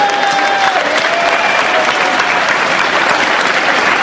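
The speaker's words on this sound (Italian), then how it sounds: "Questi ragazzi meritano di avere un grande applauso." Sustained applause from an audience cheering club members at a festival, dense steady clapping throughout with a faint whistle-like tone early on.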